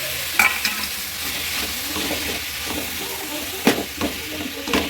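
Vegetable momo filling with ginger, garlic and chilli paste is stirred in a hot pan, a steady sizzle broken by scraping spoon strokes and a few sharper knocks, close by.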